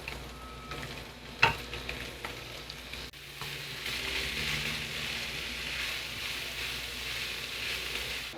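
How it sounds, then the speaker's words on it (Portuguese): Salt cod and thinly cut carrot sauté in a pan, a soft, steady frying hiss that swells slightly after a sharp utensil clink and scrape near the start. "Agora eu vou refogar aqui o bacalhau junto com a cenoura."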